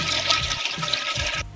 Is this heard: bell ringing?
no